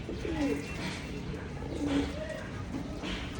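Pigeons coo in low, repeated phrases near a flock being fed a flyer seed mix, several soft calls rising and falling over a steady background murmur.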